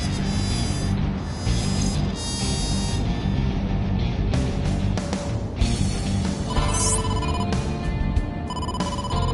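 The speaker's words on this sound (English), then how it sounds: "Date, incoming call from the boss." A phone rings for an incoming call in the video game AI: The Somnium Files. The bright electronic ringtone repeats loudly and steadily for several seconds over a dense background.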